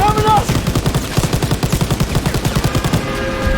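Rapid bursts of machine-gun fire in Call of Duty: WWII, loud and close, a steady stuttering rhythm of shots running almost the whole time with a voice shouting briefly over it.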